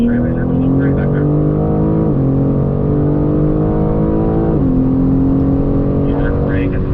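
A BMW car accelerating hard on a race track straightaway at a driving school circuit, engine tone rising steadily through the gears with a shift dip, loud and continuous from inside the car.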